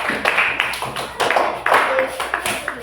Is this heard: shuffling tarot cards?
no